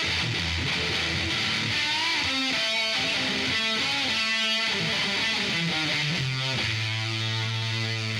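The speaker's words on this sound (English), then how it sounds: "It can do anything from clean signal to fuzz distortion." A Hangman FX fuzz pedal distorts an electric guitar playing a melodic run of notes, thick and saturated, ending on a sustained note.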